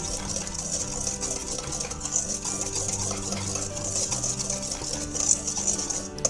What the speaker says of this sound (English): Let all of the dry ingredients whisk nicely.